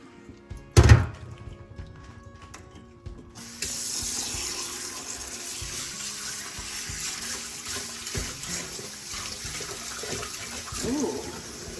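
After a heavy thunk, tap water pours steadily into a container of Lake Superior rocks and slurry from a Rebel 17 tumbler, a close continuous rushing rinse with faint movement and occasional clinks.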